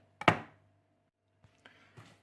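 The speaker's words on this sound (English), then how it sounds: "So chopping up of the turmeric is underway." A knife chops fresh turmeric root for a ginger and chili salad, with one loud close chop followed by a few lighter taps on the board.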